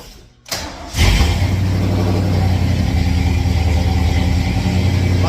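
A Ford F100 truck engine with a freshly tuned carburetor cranks briefly, then fires and settles into a loud, steady, close idle with a deep low rumble.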